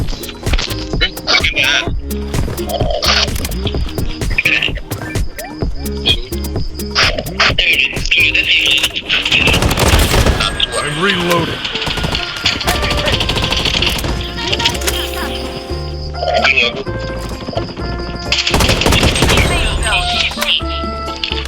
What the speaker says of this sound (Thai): โอ้ยปืนเบิร์ดยิงยากจัง